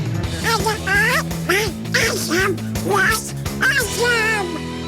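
A person imitates the nasal, quacking voice of the cartoon Donald Duck, a string of garbled raspy syllables delivered close and loud over a steady background hum.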